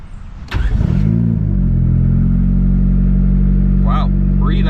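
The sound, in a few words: built single cam engine starting and idling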